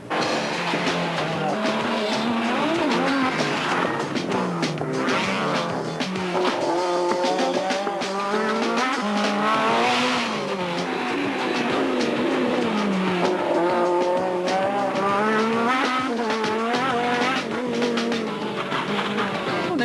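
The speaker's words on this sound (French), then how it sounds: "Un rallye comptant pour le championnat de France des rallyes." Rally cars racing at the 1999 Touquet Rally in northern France, a French championship round, with engines roaring loud and continuous through repeated rising and falling revs and gearshifts for the whole stretch, with no speech.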